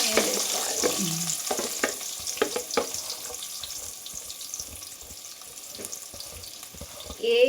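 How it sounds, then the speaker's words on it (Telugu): Onions frying in a deep layer of hot oil in a home kitchen, a steady close sizzle with scattered crackles and clinks, fairly loud and alone. "ఆయిల్ వేడెక్కినాక ఆనియన్స్ వేసుకోవాలి."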